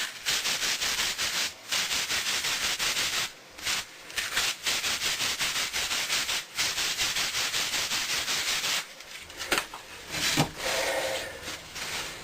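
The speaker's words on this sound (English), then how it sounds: "I'll just use a little bit of, what is this, 100 grit sandpaper to sand the outside of the candle" A paper Roman candle tube sanded with 100 grit sandpaper, a steady loud rasping scrape in long continuous strokes with brief pauses between passes, close up and without speech.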